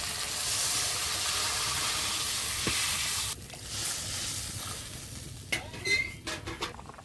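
A pan of river fish curry simmers with a steady hiss and sizzle after water is added, followed near the end by a few clinks and stirring noises.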